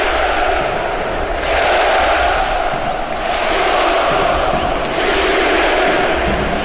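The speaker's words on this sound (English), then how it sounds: "Turkish fans doing the thunder clap." Turkish football fans in a stadium perform the thunder clap during a Euro 2024 qualifier against Wales: a vast crowd roar surging in three regular swells, each massed clap rising above the loud, constant din.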